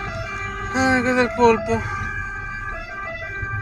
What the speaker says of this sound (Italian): Vedi come le tue sirene funzionano bene.